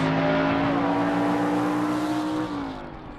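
A gasser drag race car roars down the strip at a drag race, a loud, sustained engine drone heard close, with its pitch easing as it fades at the end.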